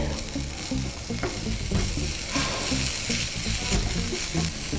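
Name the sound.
onion and ginger garlic paste frying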